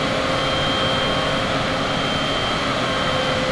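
Aircraft engine in Microsoft Flight Simulator throttling back during a steep descent toward a runway, a steady loud broadband drone with a faint tonal whine, continuous and unbroken with no talking.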